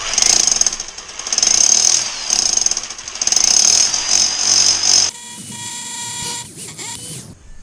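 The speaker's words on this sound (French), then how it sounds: "Il faut percer." A power drill with a hammering action bores through a thick wall while a Dahua IP PoE security camera is being installed. It comes in loud, close, pulsing bursts, then stops and leaves a quieter, shuffling tail.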